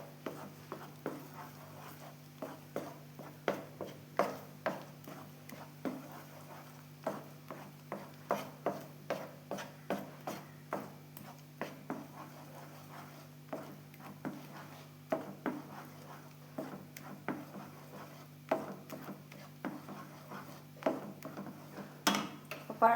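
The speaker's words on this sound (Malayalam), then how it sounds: "അപ്പോൾ ഇത് ഇതിൻ്റെ അകത്താക്കി ഞാനിതൊന്ന് വഴറ്റിയെടുക്കട്ടെ." Mashed ripe banana is stirred and sautéed in a pan, giving quiet, repeated soft scrapes and little ticks at an irregular pace over a faint steady hum.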